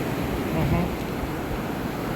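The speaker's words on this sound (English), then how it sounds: "Ocean." Ocean surf rolls onto a beach as a steady broadband wash, with wind buffeting the microphone and a faint voice underneath.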